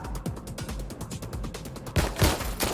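Rapid bursts of gunfire from the video game Watch Dogs Legion, a fast regular train of loud shots followed by a few heavier, louder blasts near the end, with no talking.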